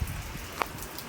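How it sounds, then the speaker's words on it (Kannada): Rain falling during a family outing around four o'clock, a steady soft patter under a faint background hum with one brief louder drop, no voices. "4 ಗಂಟೆ ಸಮೀಪ ಬಂದಾಗ ಹಿಂಗಾತ್ರಿ ಮಳೆ"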